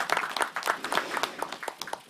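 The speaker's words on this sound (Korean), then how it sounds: "박수 부탁드립니다." Light applause at a Korean political meeting for small business owners, a small group clapping in quick, uneven individual claps, fairly quiet and short.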